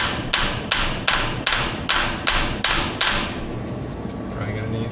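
About seven metallic hammer taps strike an A4T oil cooler at a steady pace, ringing sharply over a low background hum, close and clear before trailing off.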